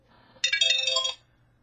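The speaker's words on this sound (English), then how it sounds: "1 second. Phone call." A phone rings with an incoming call, giving one short, bright electronic ringtone burst close by in a quiet room.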